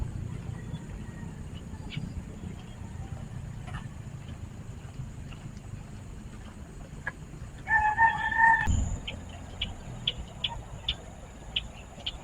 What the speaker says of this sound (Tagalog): Tunog ng bird.